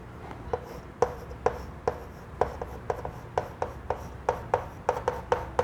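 Prime factors being written out by hand during a Class 8 maths lesson: a quiet, steady run of short pen strokes and taps, close by, with no talking.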